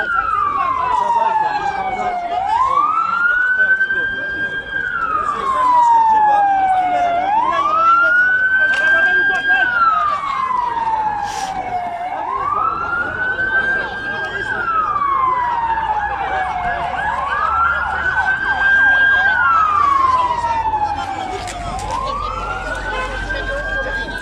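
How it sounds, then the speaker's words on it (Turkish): A wailing fire engine siren approaching a road crash scene in southern Turkey, rising and falling in long repeated sweeps, loud and close, with voices talking faintly underneath. "itfaiye geliyor"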